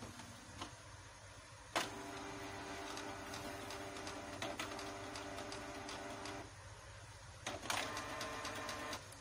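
An inkjet printer runs a nozzle check page, its print head whirring in a steady mechanical drone broken by clunks and clicks as the paper feeds, fairly quiet with no talking.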